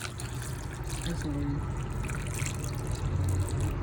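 Water poured from a one-cup measure into a cooking pot while making balut trickles and splashes steadily for a few seconds, close and fairly quiet over a faint hum.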